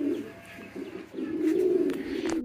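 Pigeons coo steadily in a low, throaty warble, the calls close and overlapping with a swelling, continuous murmur and no talk.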